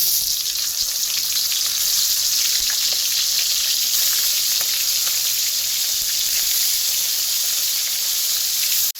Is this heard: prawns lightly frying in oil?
yes